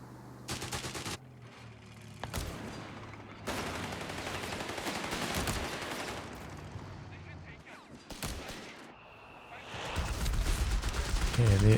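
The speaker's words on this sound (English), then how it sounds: "Yeah, there is the first mortar." Mortar and gunfire in a Company of Heroes 3 4v4 tank battle, loud blasts and bursts of shooting arriving in clusters with a dense rumbling finale, with voices talking over the fighting.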